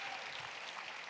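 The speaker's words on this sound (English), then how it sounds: "Give yourself a round of applause, please." Conference audience at the Netroots Nation 2018 keynote applauding; a brief, faint, distant patter of many hands with no clear speech.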